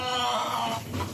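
A hen clucking in a backyard among a small flock of chickens, a steady close run of harmonic clucks and calls sounding throughout.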